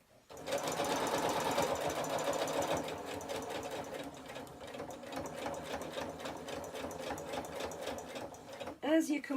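A sewing machine runs steadily close by, stitching the lining fabric of a simple bag in a fast, even rhythm, then slows and stops near the end.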